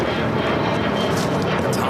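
An airliner takes off from runway 25 right at LAX, a broad, loud roaring rush of jet engines that fills the whole moment, with a voice faintly underneath.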